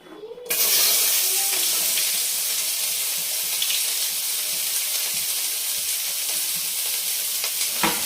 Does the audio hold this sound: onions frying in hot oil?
yes